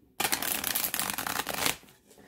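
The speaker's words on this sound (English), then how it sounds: "Let's see how it shuffles." A quick, close riffle of tarot cards with gold edges flutters for about a second and a half, a dense rapid ripple that ends abruptly.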